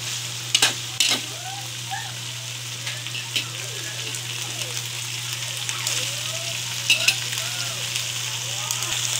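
Chicken feet for adobado stir-fry in a hot pan with a constant crackling sizzle, broken by scattered scraping stirs and a few sharp clacks, while a low steady hum runs underneath.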